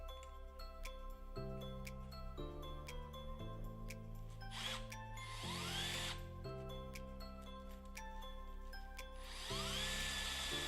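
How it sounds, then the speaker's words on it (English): A power drill bores through the main tube of a tricycle frame. Repeated stepped whirring bursts change pitch, with harsher grinding moments as the bit cuts metal, close and steady, no voices. "I'm going to drill through the back side of this main tube"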